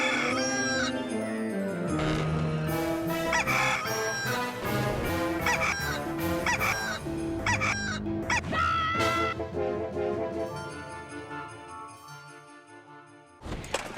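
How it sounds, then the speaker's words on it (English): Music plays with a crowing-like melodic call woven in, steady and busy throughout, with a brief pause near the end. "Every day, the rooster crows"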